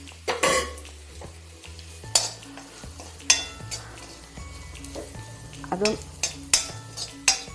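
Mushroom curry masala with chili powder being sautéed in a pan, quiet frying punctuated by sharp spoon scrapes and clinks against the pan, with a humming background tone and a single brief spoken word.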